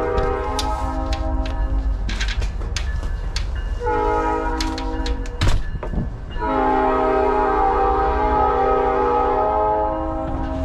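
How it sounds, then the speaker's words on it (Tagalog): Train rolling past nearby with a sustained horn blast, the horn cutting out briefly midway before sounding again over the rumble of the railcars, loud and continuous. "Inaabot pa ako ng train mga boss."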